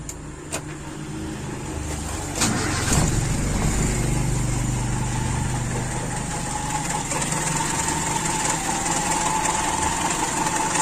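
A Toyota Kijang Super 5K engine fitted with an Aisan carburetor and FMT jets cranks and catches after a couple of clicks, then settles into a steady, close, buzzing idle that holds to the end.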